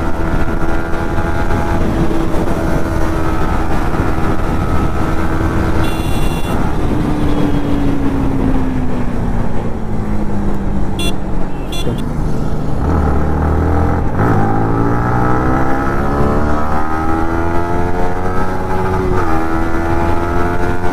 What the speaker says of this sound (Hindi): ओ भाई यहाँ पर तो भाई बाइक भगाने मेरे को मजे ही कुछ अलग लग रहे हैं।